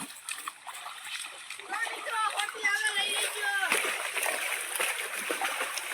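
A herd buffalo wades through a river, churning up sloshing, splattering water in a steady wash of splashes, with a person talking over it.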